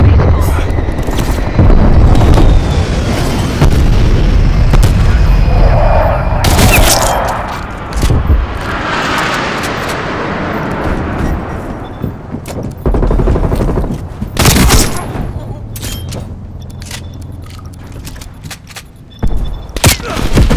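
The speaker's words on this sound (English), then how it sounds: "Hostile strafe run inbound." A hostile aircraft strafe run in a Call of Duty team deathmatch game pounds the area with rapid gunfire and heavy explosions, loud and dense throughout, with booming blasts and brief voice lines over the din.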